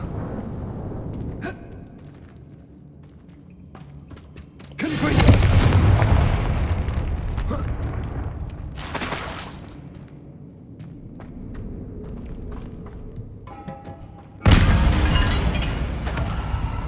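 A Confringo spell explosion in Hogwarts Legacy goes off as a loud booming burst, with further blasts following in a sustained roar and a quieter rumbling stretch between them.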